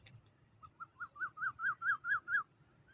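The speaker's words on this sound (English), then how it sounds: "What kind of bird was that? Did you hear that?" A bird calls from bushes outdoors, a series of about eight rising-and-falling whistled notes that grow louder and steadier, evenly spaced, at moderate distance.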